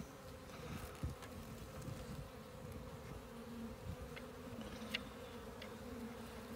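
Honey bees buzzing around an open hive during a spring inspection, a dense steady hum close by with occasional louder passes of individual bees, no talk.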